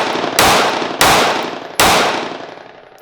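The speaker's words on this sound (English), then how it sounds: "we're gonna shoot it that same limp wristing, you know, way and see if mine runs any better limp wrist" A Sig P365 rental pistol fires three sharp, loud shots held with a limp wrist, spaced unevenly about a second apart, each crack trailing off in echo.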